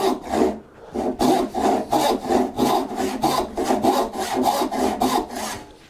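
A hand saw cuts through wood for a bridle joint, in a steady run of about a dozen rhythmic back-and-forth strokes. The rasping is close and even, with no talk over it.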